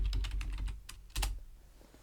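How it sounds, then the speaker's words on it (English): Typing on a computer keyboard while entering a search into an online design tool: a close, fast run of crisp key clicks, a short pause, then a couple of louder final taps. "Now I'm going to type in winter lake"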